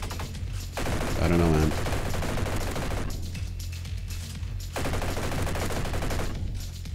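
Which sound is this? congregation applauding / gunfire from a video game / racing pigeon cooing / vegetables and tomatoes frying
gunfire from a video game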